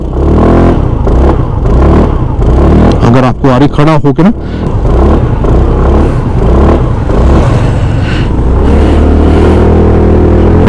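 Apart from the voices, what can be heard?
Hero Xoom 160 scooter exhaust revving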